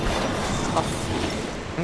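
A train rumbles along in the Apex Legends video game, a steady dense roar of rolling wheels and rail noise that holds level throughout.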